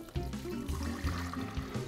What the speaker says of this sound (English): I'm just going to pour it in, we're going to brew up our coffee.